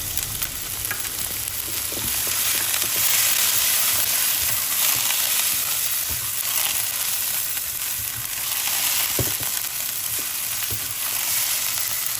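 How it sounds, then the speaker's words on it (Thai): Continuous loud sizzling and crackling from chicken stir-frying with chili in a hot wok, with scattered scraping knocks of a spatula against the pan. "น้ำใส่ไก่ลงไปเลยค่ะ"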